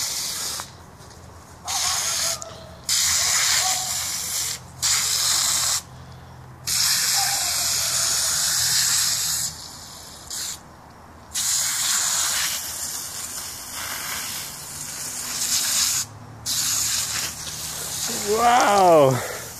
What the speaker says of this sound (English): don't spray the window